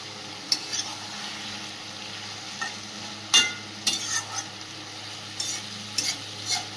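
Fried fish heads are added to a curry and cooked in oil. A soft low sizzle sits under a steady hum, broken by scattered clinks and scrapes of stirring.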